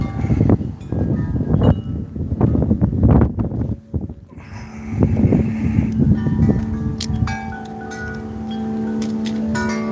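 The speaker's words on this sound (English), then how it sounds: "It's windy." Gusty outdoor wind buffets and rumbles against the microphone in uneven bursts, with flapping and rattling; later it eases into a steadier hiss while chimes ring clearly.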